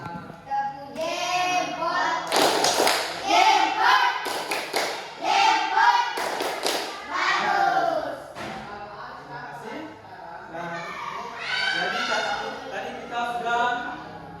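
Students in an Indonesian classroom do a thumb clap, with a few bursts of quick rhythmic taps and claps mixed into near, continuous voices of a teacher and children talking and chanting.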